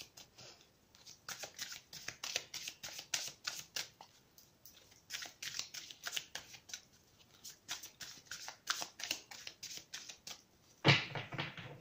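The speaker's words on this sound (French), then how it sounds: "Je tire 3 cartes." Tarot cards riffled and shuffled for a reading, a long run of rapid crisp flutters in bursts, close up, ending with a sharper snap as a card is drawn.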